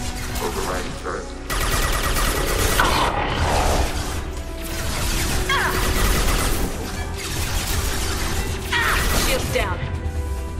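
Gunfire from a hacked turret in Mass Effect 2 rattles in dense, sustained bursts with crashing impacts, loud and close, while a character's voice speaks over the combat.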